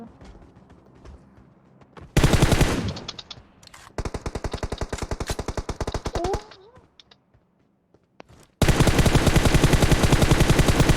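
Automatic weapon fire in the mobile battle-royale game PUBG Mobile, loud rapid bursts in several strings with short pauses and a brief vocal sound between them.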